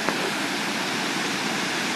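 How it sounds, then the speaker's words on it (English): A large waterfall and a creek roar in a loud, steady wash of broadband rushing water, constant and close, with no voices over it. "The water's really loud and it's windy."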